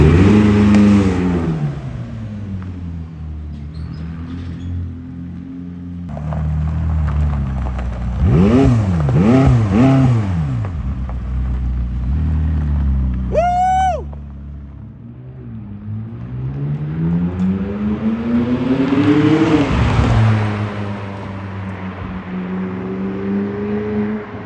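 A wrecked McLaren 600LT is driven around the block, its engine revving up and down in loud, close sweeps with rising and falling whines, punctuated by a brief high whistle and heavy throttle bursts.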